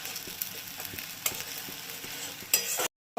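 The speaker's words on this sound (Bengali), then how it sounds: "ভালো করে কষিয়ে নেবো। আদা টমেটোর গন্ধটা যেন না থাকে।" Ginger and tomato masala sautéed in a pan with tomato sauce, a steady sizzle broken by repeated scraping stirs of a spoon, close and continuous, cutting out briefly near the end.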